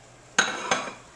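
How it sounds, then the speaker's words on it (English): A slotted metal spoon knocks twice against a pot of poaching eggs, two sharp close clinks about a third of a second apart over a quiet background hum. "Slotted spoon in here."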